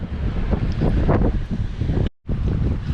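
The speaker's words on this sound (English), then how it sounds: "We're trying to hide from the wind." Strong wind blows on a rocky seashore while foraging for crabs, a loud roaring gusty rumble buffeting the microphone, cut by a brief silent gap before resuming.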